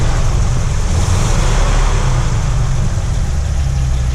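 A 1948 Packard Custom Eight's straight-eight engine idles steadily and close by, a continuous low rumble with no voices over it.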